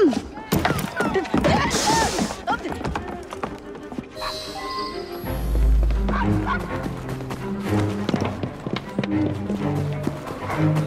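A dog barks in Assassin's Creed Syndicate, a few short yaps among hoofbeats, music and character dialogue, the barks brief and partly masked in the busy game mix.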